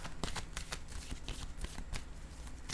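Tarot-style cards handled and laid down during a card reading, a run of crisp papery slaps and shuffling riffles, close and steady, with no voices.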